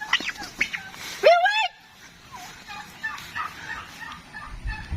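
A turkey raised for the table in Bicol gobbles close by in a short, loud rattling burst, with smaller cackles and clucks around it and faint background noise.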